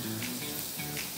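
Mushrooms fry in a little oil in a pan, giving a brief, constant close sizzle with soft crackling and no voices.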